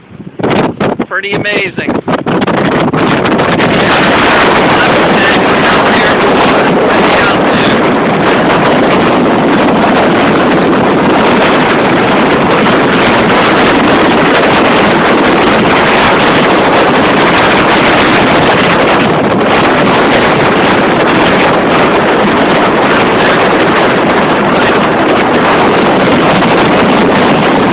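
Strong wind roars across a beach as a loud, constant broadband rush battering the microphone for nearly half a minute, with a brief spoken remark near the start.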